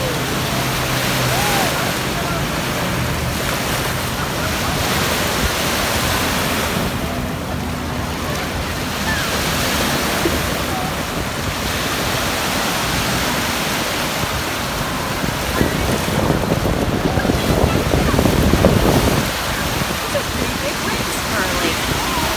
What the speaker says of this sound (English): Big waves, Hurley.